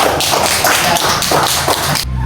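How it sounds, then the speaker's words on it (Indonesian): Classroom applause for a student group, a brief burst of many hands clapping close and loud in quick rhythmic rounds, cut off abruptly after about two seconds. "Ya, tepuk tangan untuk kelompok 4."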